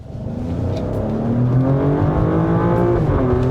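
A 2022 Alfa Romeo Stelvio Quadrifoglio engine revs up loudly and close, its pitch climbing steadily in a rising mechanical roar with no talk.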